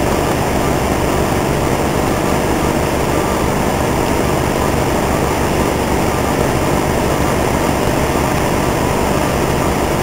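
A GOL airliner, flight 1094, flies over the Caucaia district on the edge of Fortaleza, Ceará, about to land. Its steady broadband engine roar is heard from inside the cabin, continuous and loud for the whole stretch.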